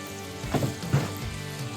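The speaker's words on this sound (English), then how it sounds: "You hear that nice little sizzle." Crispy Southern-style fried chicken sizzling as it comes out of the oven, a soft close crackle with two brief louder bursts over a steady low hiss.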